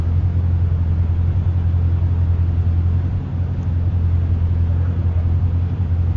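A Corvette C6 Z06 fitted with a Billy Boat Bullet exhaust idles from about ten feet behind, a loud, steady, deep low rumble without pause.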